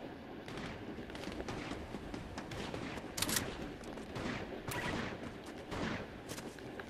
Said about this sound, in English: Now there's gunshots in the distance